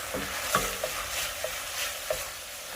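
Andouille sausage browns in a pan with a soft, steady sizzle, broken by several light taps and scrapes of a spoon stirring it.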